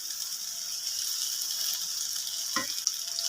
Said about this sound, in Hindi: साथ साथ चम्मच हिलाते रहिए ताकि गुठलियाँ ना बने